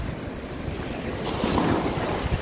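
Sea waves at high tide on the beach at Harihareshwar, a steady close surf roar that swells into a louder breaking wash midway, with wind buffeting the microphone.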